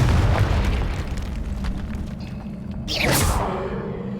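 Confringo fire spell bursting in Hogwarts Legacy on Nintendo Switch: a loud rumbling boom with a rising whoosh that swells again near the end, amid game effects and no talk.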